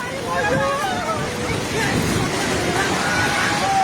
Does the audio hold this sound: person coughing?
no